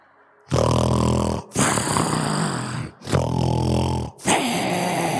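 A voice imitates loud snoring: three long, harsh, rasping snores with short gaps between them, each one rough and close, and no other talk.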